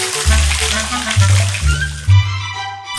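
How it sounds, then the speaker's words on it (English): Running water splashing and trickling as hands are washed, a close, uneven sloshing with a few brief pulses of louder flow. "We can wash our hands with water."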